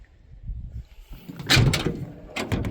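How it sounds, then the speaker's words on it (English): A door on a 1956 Chevy 3100 truck opens and closes, giving a couple of close, solid clunks and latch knocks over a quiet background. "Doors open easily and close easily."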